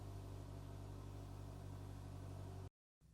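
A 2020 or later Polaris Slingshot engine idles with a steady, low droning hum and faint rhythmic pulsing, then cuts out abruptly to silence before a quieter sound resumes briefly.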